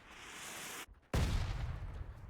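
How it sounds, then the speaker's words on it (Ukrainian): Artillery barrage in PUBG on the Erangel map during a tournament match: a steady roar cuts out briefly, then heavy, booming blasts burst in loud and low, rumbling on as a continuous barrage. "Ого! Ого! Арта працює! Працює арта."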